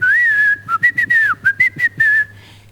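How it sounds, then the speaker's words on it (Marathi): A bright whistle, tied to a swallowed whistle in a Marathi stage comedy skit: one long wavering note, then a rhythmic run of short sharp chirps, close and loud with a low hum beneath. "त्याने शिट्टी गिळलेली आहे"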